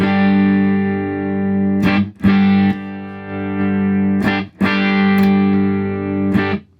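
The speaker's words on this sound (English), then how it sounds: "That's tube distortion." Electric guitar played through a handmade tube amp with heavy distortion, sustained overdriven chords ringing loud and close, broken by a few sharp pauses and restrikes.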